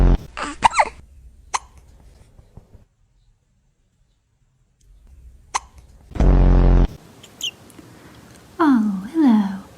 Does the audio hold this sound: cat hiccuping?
yes